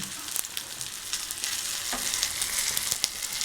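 Chettinad-style fish frying on a dosa griddle, a steady close sizzle with bursts of spitting oil and a few sharp crackles throughout, no talking.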